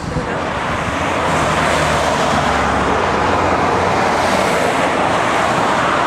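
Steady, loud roar of traffic on a main highway passing close by in Cheviot, New Zealand, a continuous wash of engine and tire noise with no pauses.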